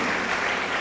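A church congregation applauds, a dense burst of steady clapping from many hands.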